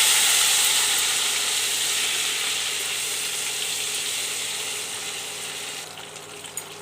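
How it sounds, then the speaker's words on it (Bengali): Egg frying in a pan with Kashmiri chili powder and salt, a steady bright sizzle that holds for several seconds and slowly eases, with no voices. "কাশ্মীর লঙ্কার গুঁড়ো, নুন দিয়ে আমি ডিমটা ভেজে নেব।"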